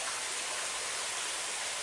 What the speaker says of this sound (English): I'll show you a little waterfall we just found